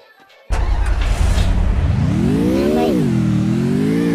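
A car engine in a video game roars in loudly after a brief quiet start, revving with a rising whine, dipping, then holding steady through the rest of the clip.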